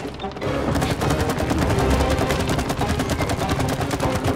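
Loud, rapid automatic gunfire in the video game It Takes Two, a dense sustained volley of close shots running almost the whole time after a brief quiet start.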